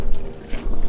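Water poured out to rinse soap off on a sailing trip, a short splashing pour lasting about a second, close and fairly loud.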